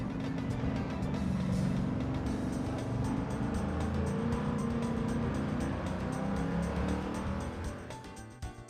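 Race car engine lapping a circuit in Gran Turismo 7, a continuous loud engine drone that holds strong throughout with shifting pitch and a slight fade at the end, no voices.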